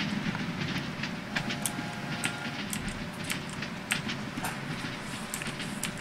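A train passes on a video game map, its continuous rumble and rhythmic clickety-clack of wheels rolling steadily along, loud and close, with faint sharp game clicks scattered over it.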